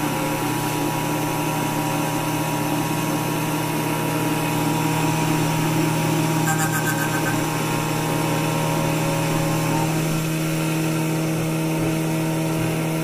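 A valve grinding tool grinds an engine valve from a low-compression Honda GSR engine, giving a steady, continuous motor whine with a constant hum, fairly close and uninterrupted, no speech.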